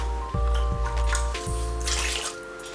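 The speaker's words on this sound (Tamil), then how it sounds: "அரை டம்ளர் தண்ணீர்." Half a tumbler of water is poured into a pot while making homemade pineapple squash, a short steady splashing pour with a few clinks, close and moderately loud over a constant background hum.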